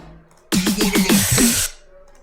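A short drum fill in a mid-tempo FL Studio beat, a quick burst of about six punchy tom-like hits over roughly a second, loud and alone, ending sharply.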